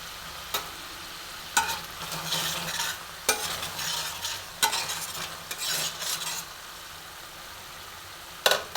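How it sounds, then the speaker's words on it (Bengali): Dried red chillies and paneer frying in oil over a raised flame, with a continuous crackling sizzle and spatula strokes scraping the pan every second or so, close and fairly loud. "এবার আমি ভাজা ভাজা করে নেব।"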